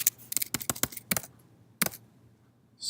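A short burst of computer keyboard keystrokes as a command is entered, a quick cluster of clicks followed by a pause and a final isolated key press, close and fairly clear with no talking.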